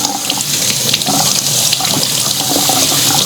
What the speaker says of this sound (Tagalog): Ngayon, hugasan na rin natin ito.